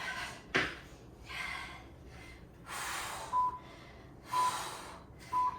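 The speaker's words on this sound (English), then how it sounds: "we got some heavy breathing" Heavy, labored breathing close to the microphone after a HIIT workout, a series of deep breaths and gasps in uneven bursts, with a few short electronic beeps.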